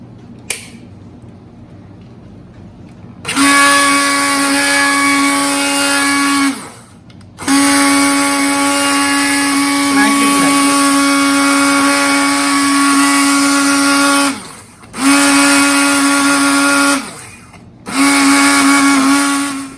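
An electric mixer grinder coarsely grinding multigrain khichdi ingredients, a loud whirring motor run in several bursts of a few seconds each, separated by brief stops.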